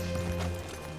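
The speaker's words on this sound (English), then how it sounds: "Hitch your horse up here." Horse hooves clip-clop steadily in Red Dead Redemption 2, a short close run of hoofbeats over a continuous game ambience hum with no talk.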